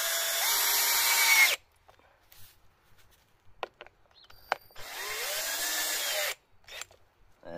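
A power drill drives screws into a wood log raft bed, two sustained whirring bursts with a speed ramp separated by quiet handling clicks and taps, close and loud.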